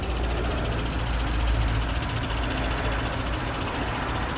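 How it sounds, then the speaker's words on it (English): A 2018 Audi SQ5 engine runs at a steady, even idle just after a cold start, a soft low hum throughout with no talking. "fresh off of the cold start, the engine is running happily"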